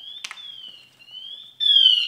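A firefighter's SCBA breathing apparatus sounds its low-air alarm, a shrill steady electronic whistle that wavers slightly and then turns harsher and louder near the end, with a brief rattle early on.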